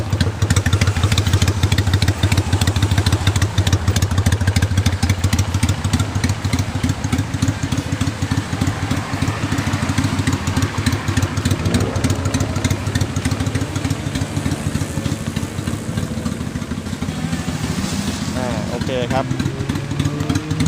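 A Honda Steed 600 motorcycle engine idles steadily close by with a low, lumpy rumble and mechanical clatter, while someone talks over it.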